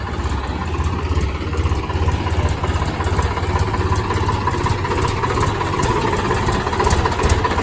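A dozer tractor engine idles up close, a loud, steady low chugging with a regular pulsing rhythm and a faint high whine on top, continuing evenly without talk.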